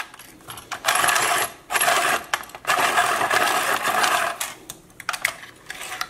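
Regular pencils are fed one after another into a pastel pencil sharpener, giving bursts of close, scratchy grinding separated by short pauses.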